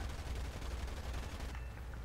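Tank gunfire in the War Thunder video game while driving a Panzer IV H, a dense continuous barrage of heavy shots and rumble, loud and close, with no pause across the clip.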